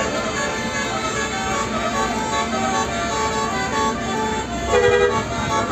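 Bus horns honking at a bus enthusiasts' convoy gathering, a sustained blaring tone that overlaps other horns in a noisy, continuous chorus.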